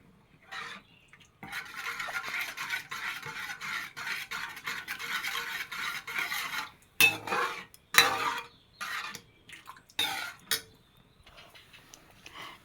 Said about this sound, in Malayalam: ഇതാ ഇങ്ങനെ സിമ്മിൽ നന്നായിട്ടൊന്ന് ഇളക്കി കൊടുക്കണം